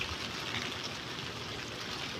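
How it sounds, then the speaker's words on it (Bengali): Steady, dense hiss of falling water, continuous and even throughout, like rain pouring down nearby with no voices. "দেখতেই পাচ্ছেন বৃষ্টি হচ্ছে"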